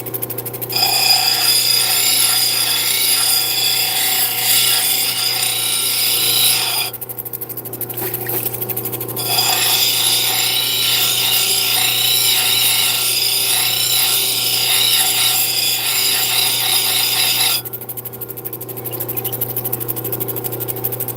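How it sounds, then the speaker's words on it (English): A cabbing machine grinds a piece of obsidian in a steady, high-pitched whine and rasp, with two short pauses where the stone lifts off the wheel. The sound is close and continuous, with no talk. "we can go back over the other cabbing machine and then use the 140 grit"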